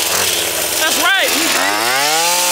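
A weed eater engine runs loudly up close, its buzzing drone rising and falling in pitch as it revs, with a person speaking over it.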